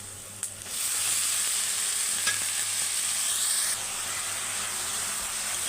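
Amaranth leaves and chana dal frying in a pan, a loud steady sizzle that jumps up after a clatter as the leaves drop in, with scraping stirs underneath and no speech.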